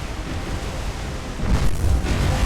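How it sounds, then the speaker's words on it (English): A ship's magazine explodes aboard the cruiser Nagara in the War on the Sea naval video game, a deep rumbling blast that swells louder in its last second over a continuous low roar. "Nagara has a magazine explosion"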